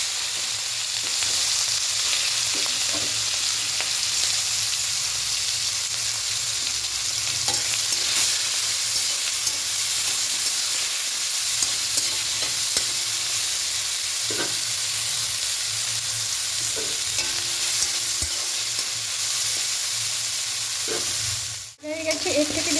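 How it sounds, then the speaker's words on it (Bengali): Prawns fry in mustard oil, giving a continuous loud sizzle with occasional stirring scrapes throughout and a sharp clatter near the end, with no one speaking. "তেলের মধ্যে প্রথমে চিংড়ি মাছগুলোকে একটু ভেজে নেব।"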